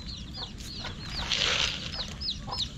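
Chickens cluck in repeated short calls close by while pecking at corn feed, with a steady bed of outdoor farmyard noise underneath.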